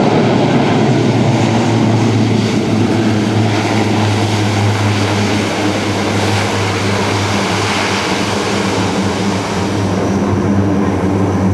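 A C-130J-30 Hercules turboprop lands at an air show, and its propellers roar loudly and steadily with a low engine drone, consistent with reverse thrust during the rollout.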